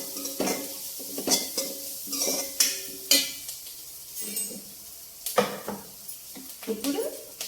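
Chopped onions fry in a pan for an okra and egg tamarind curry while a spoon stirs them, producing rhythmic scraping strokes over a steady sizzle, close and fairly loud.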